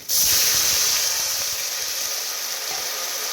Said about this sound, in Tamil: நான் தண்ணி ஊற்றுறேன்,